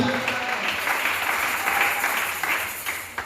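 Church congregation applauding to acclaim the Lord during a French-language service, a steady dense wash of many hands clapping together, sustained and fairly loud throughout.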